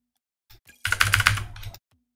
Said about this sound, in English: I hope you guys hear my keyboard.